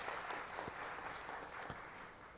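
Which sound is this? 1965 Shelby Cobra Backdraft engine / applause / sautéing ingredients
applause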